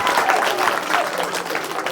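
Children clapping together at a home gathering during a magic show, a steady dense patter of many small hands sustained throughout, with voices mixed in.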